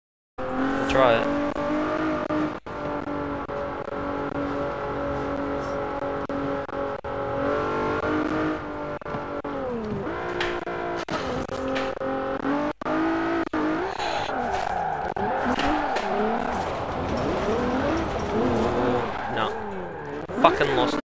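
Tires squealing and skidding as a car drifts through corners in Forza Horizon 4, with a steady engine drone and sliding screech throughout, and a voice talking over it.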